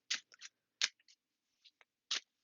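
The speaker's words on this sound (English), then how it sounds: "I'm gonna draw a card. First I'll shuffle" Playing cards being shuffled by hand at a tabletop solo roleplaying game session: several short papery bursts of riffling and snapping, close and fairly quiet, with brief gaps between them and no talking.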